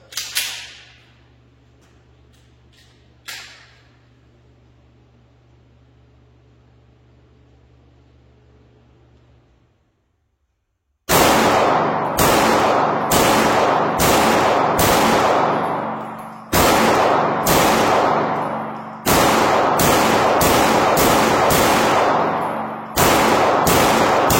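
A pistol loaded with a 15-round magazine fires a rapid string of loud, close, sharp shots that echo, after about ten seconds of quiet handling noise and faint clicks, with no talking.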